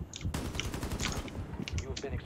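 Quick bursts of video-game gunfire rattle in close succession over about two seconds, with a voice audible between the shots.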